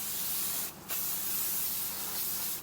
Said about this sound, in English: I'm gonna use this makeup fixer spray from Kiko Milano. I am just gonna spritz some and then gonna apply.